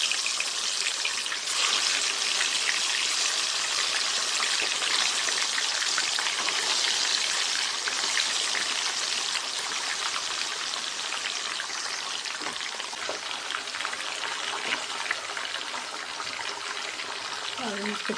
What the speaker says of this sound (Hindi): और हम इसको अच्छे से फ्राई कर लेंगे।